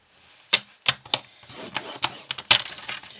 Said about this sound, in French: Et vous venez faire un pli à 2 cm de chaque côté.